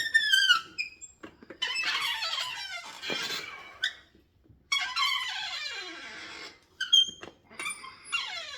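An old exercise machine in a basement home gym squeaks loudly and repeatedly in long, high, rubbing squeals that rise and fall with each rep, close up and alone with no talk.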